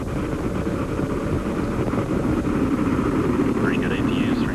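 Space Shuttle Discovery's three main engines roar during ascent, a broad, rumbling wash with launch commentary talking over it.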